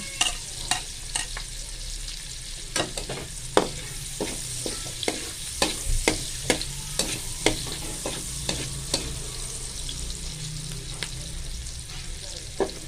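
Garlic frying in a reduced amount of oil in a pan, a steady sizzle broken by sharp, regular clicks of a spoon stirring, continuous and close throughout.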